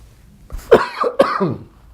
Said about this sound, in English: I'm going to cover up my microphone and cough.